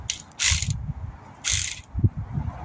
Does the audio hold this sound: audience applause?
no